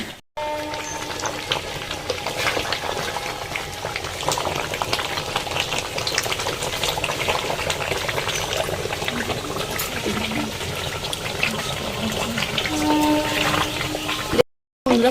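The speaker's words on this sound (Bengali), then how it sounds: "কাঠের জালে কেমন টকবক টকবক করে ফুটছে" A pot of mutton biryani simmers over a wood-fired clay stove, with a steady crackling, bubbling boil held close and fairly loud for the whole stretch, cutting off briefly near the end.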